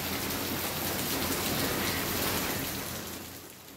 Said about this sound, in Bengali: 10:30 নাগাদ জমজমিয়ে নামে বৃষ্টি।